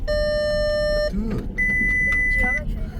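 A faulty car or bus keeps emitting electronic beeps, two steady tones about a second each, loud and up close beneath background chatter and a voice.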